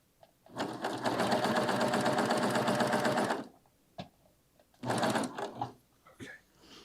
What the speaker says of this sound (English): Now you can put your foot down and you can continue on sewing.